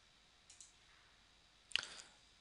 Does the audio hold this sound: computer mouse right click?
yes